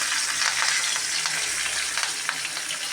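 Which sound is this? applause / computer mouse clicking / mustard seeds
mustard seeds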